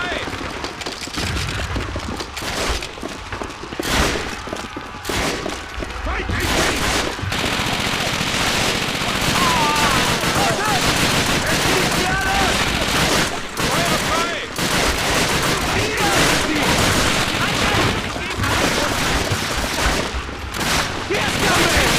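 Call of Duty on PS2 battle gunfire: dense, continuous volleys of rifle and machine-gun fire with explosions and shouting soldiers woven through a loud, chaotic wartime soundscape.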